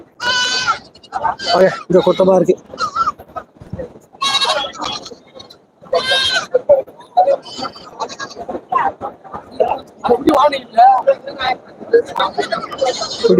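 Goats bleat repeatedly in loud, wavering cries at a busy Saturday goat market in Ettayapuram, Tamil Nadu, mixed with nearby people talking.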